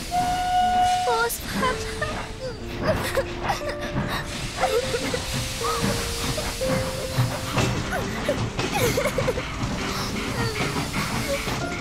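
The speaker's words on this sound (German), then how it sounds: "wenn der nächste Zug im Dörfli einfährt" A steam train pulls into a village station, hissing and rumbling with sustained whistle or horn tones across the span, while a child calls out over the noise.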